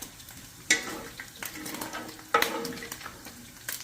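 Meat for chili sizzling and popping in rendered fat in a pot, a soft continuous frying hiss broken by sharp spatters and stirring scrapes.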